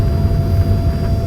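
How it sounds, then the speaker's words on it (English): Cabin noise aboard an American Airlines jet taxiing at JFK after a flight from Toronto: a steady, loud low-frequency engine rumble with a faint high whine, continuous and with no voices. "We are taxiing on the runway at the moment."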